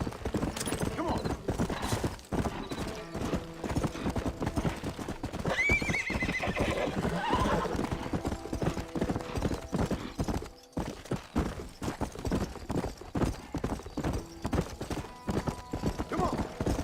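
Horse galloping in Red Dead Redemption, a steady rapid clip-clop of hooves with an occasional neigh, loud and continuous under game music, with someone speaking over it now and then.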